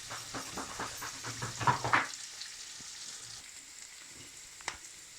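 Carbonara pasta is stirred in a sizzling pan, with crackling fry and quick scraping strokes for about two seconds before it settles into a quieter, soft hiss with an occasional clink.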